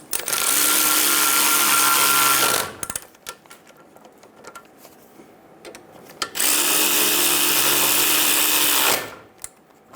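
Caliper bolts on a 2000-2007 Ford Focus front knuckle driven down by a power tool in two loud sustained whirring bursts of about two and a half seconds each, separated by a quieter gap of small clicks and handling noise.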